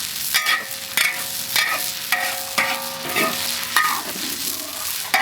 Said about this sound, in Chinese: 这样就可以下入剁辣椒了